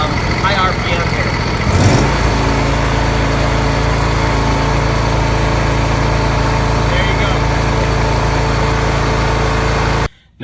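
A John Deere L100 lawn tractor engine runs steadily at high RPM, a loud continuous drone held for about ten seconds before cutting off abruptly at the end, with a brief clank near the start.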